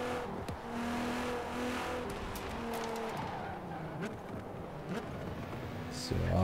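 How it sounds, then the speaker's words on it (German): V6 car engine in the Forza Horizon 4 racing video game, droning and revving steadily at moderate loudness, with some tire noise and a rise in pitch near the end, while someone talks over it. "Schöner V6 Motor."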